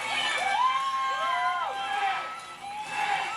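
Crowd cheering and screaming at a triathlon finish line, a dense wash of voices with rising whoops and shouts swelling and fading over a few seconds, fairly loud and continuous.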